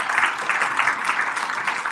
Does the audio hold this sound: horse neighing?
no